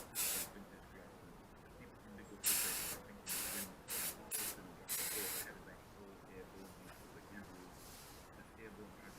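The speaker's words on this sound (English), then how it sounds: "I'm just going to crack on and start putting some paint down" Base coat spray painted onto a Citroën 2CV with a spray gun outdoors on a warm afternoon, a series of close hissing bursts of varying length over steady background noise.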